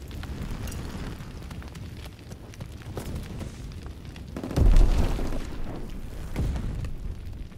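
An explosion in the WWII shooter Call of Duty: WWII, a deep booming burst about midway rising over ongoing rumbling battle noise, followed by a smaller thud near the end.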